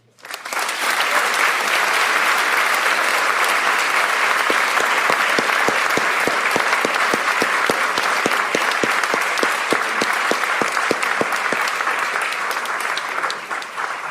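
Sustained audience applause as Congressman Jim Clyburn comes to the podium at a 70th anniversary event for Brown v. Board, a loud, steady clapping from a large crowd that goes on without pause and tapers only slightly at the end.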